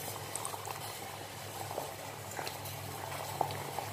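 Sugar syrup for kanafeh boils in a pan, a quiet, steady bubbling with scattered small pops close by, alone without talk.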